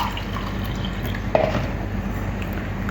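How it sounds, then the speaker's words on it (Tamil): Water poured from a cup into a cooking pot while making masala chicken biryani, a steady soft liquid pour with faint drips and a single small clink near the middle, no voices. "இப்போ 3 கப்பு, இப்போ 4 கப்பு தண்ணி ஊற்றியாச்சு."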